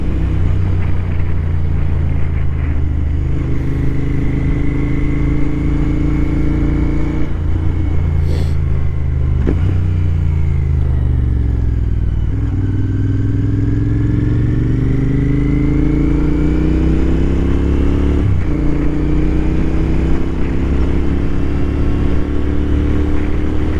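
A motorcycle engine runs steadily and loudly throughout, its pitch rising and falling as the rider accelerates and eases off while passing by on the road, with wind rumble underneath.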